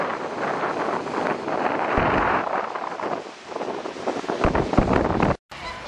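Gusty wind sweeps across Thirroul beach in Australia, rumbling against the microphone with rising and falling surges, then cuts off abruptly near the end.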